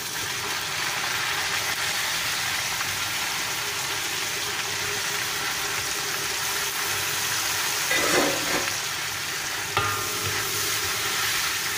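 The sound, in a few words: onions and chilies frying and being stirred in a pan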